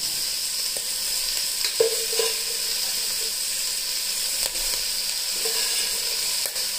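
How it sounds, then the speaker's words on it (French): Salted cured meat dropped into a hot pan over translucent softened aromatics while cooking Guianese calalou, a steady frying sizzle with a few brief clinks and stirring scrapes, close and alone. "Et là maintenant, je vais rajouter la salaison dedans."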